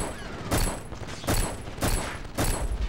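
Gunfire in the PS2 shooter Black, played on Hard: four loud, close bursts of automatic fire spaced evenly about a second apart, each ringing out briefly before the next.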